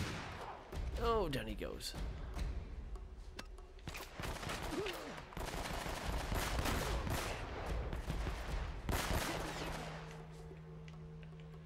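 Gunfire in the PS4 remaster of Uncharted: Drake's Fortune rattles in sustained loud volleys and scattered shots across the whole stretch, under a voice talking over the game.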